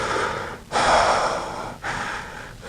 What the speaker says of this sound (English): you breathe through it and try to see how easily you can breathe through it